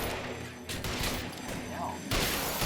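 Gunfire erupts in a shootout in the video game L.A. Noire, dense and continuous with loud cracks and booms under a noisy backdrop.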